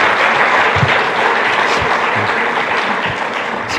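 A church congregation breaks into sustained, dense applause, many hands clapping together in a steady wash that fades slightly toward the end, with no talking over it.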